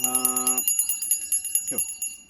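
A small hand bell rings brightly during a Ganpati puja, giving a sustained metallic tone for about half a second followed by quick repeated jingles, close and clear, with a brief voice in between.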